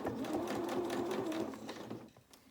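A domestic sewing machine runs in a fast, even rattling burst while stitching back and forth on a dress, then slows and stops, leaving quiet room noise.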